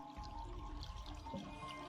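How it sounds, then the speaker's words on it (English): Water pours and trickles steadily in an anime fight scene set in a desert, a continuous liquid splashing and dribbling sound running alone for about two seconds at moderate level. "Why is there leaking water?"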